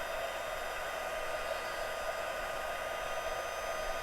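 A handheld heat tool blows hot air to melt embossing powder on a card, giving a steady, close, even whirring hiss like a hair dryer that stays constant throughout with no pauses.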